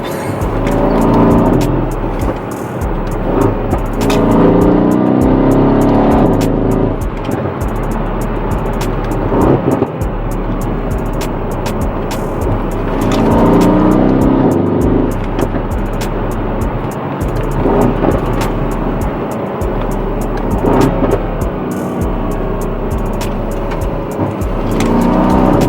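A Mercedes C63 AMG with a 7-speed transmission, its engine revving hard inside the cabin, swelling and dropping as gears change, with a blip through a downshift under a loud continuous drone.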